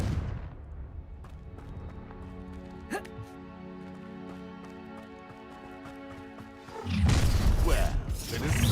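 A Confringo blasting spell fired in a Harry Potter video game, with a sharp crack partway through, sustained ringing tones and a loud rumbling blast near the end.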